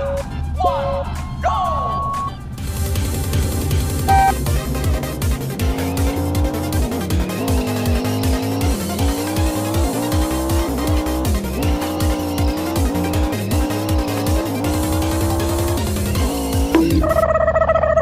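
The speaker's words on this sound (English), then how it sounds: "My favorite race car." Race car engine in Chicken Gun roars loud and steady, revving in repeated rising pulses as gears climb, with brief tire squeals early on and music-like tones at the start and end.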